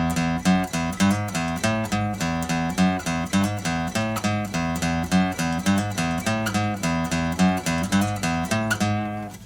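Guitar plays a riff on the top string, a steady, repeating run of plucked single notes in a driving even rhythm, clear and close for about nine seconds with no talking.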